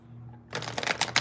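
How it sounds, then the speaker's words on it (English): Tarot cards are shuffled close by, a quiet lead-in followed by a quick run of crisp riffling flicks and snaps lasting under a second. "I'm going to shuffle before I roll the dice."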